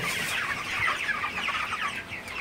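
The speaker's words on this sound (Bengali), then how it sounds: "তো মুরগিগুলো মাশাআল্লাহ মোটামুটি সুস্থ আছে এখানে" A crowd of broiler chickens on a hot poultry farm with a fan running, giving continuous, overlapping clucks and chatter that are moderately loud and close, with no talking.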